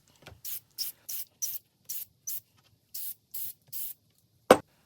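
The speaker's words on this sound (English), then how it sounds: "This Gorilla Glue spray adhesive works well for adhering the pattern to the masking tape." Ten short hissing bursts of Gorilla Glue spray adhesive in a steady rhythm, close and fairly loud, followed by a sharp thud.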